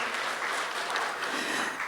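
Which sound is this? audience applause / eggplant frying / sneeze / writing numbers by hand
audience applause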